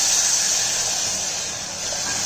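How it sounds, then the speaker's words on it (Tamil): Steady loud hiss of three tumblers of water hitting a hot pan for vermicelli upma, sizzling continuously without pause, close and bright with no voices. "இப்போ இதில் இந்த 3 டம்ளர் தண்ணியை ஊற்றிக்கிடுவோம்."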